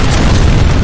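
A grenade explosion in the video game FEAR Combat makes a loud, dense boom that fills the whole brief moment without a break.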